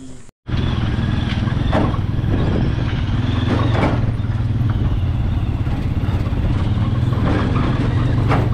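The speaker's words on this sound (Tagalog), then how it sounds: "Kaya mga kaibigan, sasakay tayong tricycle." A motorcycle-powered tricycle engine runs steadily up close, a loud continuous droning rattle that holds at an even level throughout.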